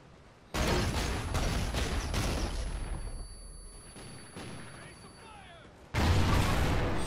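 Gunfire in the video game Call of Duty Ghosts bursts in loud volleys, a dense rattle at the start and another sharp burst near the end, with quieter game ambience between.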